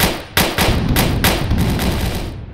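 ARMA 3 military video game gunfire thumps out as a string of heavy, evenly spaced shots, loud and close, about eight rounds in under three seconds with no talking.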